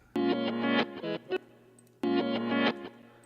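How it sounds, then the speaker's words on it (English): A reversed guitar sample plays backwards in music production software, its distorted chords swelling and cutting off abruptly, heard as two loud phrases separated by a short silence and a few brief stabs, with no voices. "I can use to reverse that guitar, so it's like playing backwards"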